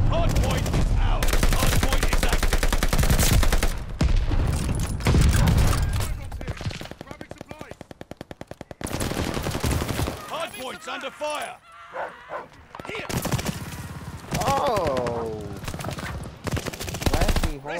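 Gunfire from a Call of Duty Vanguard multiplayer Hardpoint match, loud bursts and rapid automatic rattles throughout, mixed with excited voices talking over the shooting.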